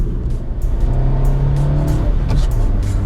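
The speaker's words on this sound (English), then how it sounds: "as we cruise back down into a residential area, it is a good little bit of fun, this car" A 2018 Kia Picanto GT-Line S mini hatch cruises through a residential area, its engine a steady low drone with a slight rise in pitch, heard from inside the cabin over road noise.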